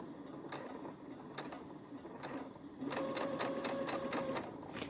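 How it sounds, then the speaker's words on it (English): Sewing machine stitching forward, a quiet close rhythmic mechanical whir with regular needle clicks, speeding up into a faster steady run in the second half. "And then now I'll just stitch forward, all the while holding the threads."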